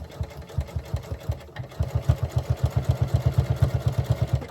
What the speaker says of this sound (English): I'm going to just start sewing all the way down